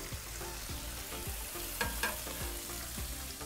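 Steak searing with butter on a hot flat-top griddle, a loud continuous sizzle with rhythmic scraping of a spatula across the metal surface.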